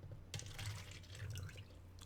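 Sweet tea from a Chinese store being poured, a steady liquid splash running continuously for about two seconds at close range with no talking.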